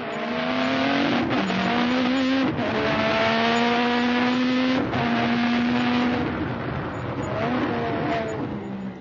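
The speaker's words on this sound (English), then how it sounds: "Accelerating up over the hill to Piratella." Race car accelerating up over the hill toward Piratella at Imola, its engine screaming loudly through rising gear runs with sharp upshifts between them, close and continuous, no voices.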